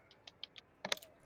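Someone types on a computer keyboard in a few quick, separate keystrokes, followed by a short burst of clustered key clicks, close and fairly quiet, with no one speaking.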